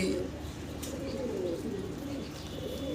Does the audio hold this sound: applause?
no